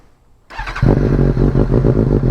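A motorcycle engine fires up after a moment of quiet and settles into a loud, close, throbbing idle with a steady pulsing rhythm.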